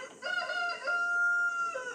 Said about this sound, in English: It's the morning, the rooster wanted to say good morning too.